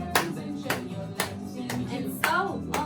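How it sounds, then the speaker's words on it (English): Children clapping their hands along with an action song, about five separate claps spread out at an uneven pace over steady background sound. "And clap those hands again"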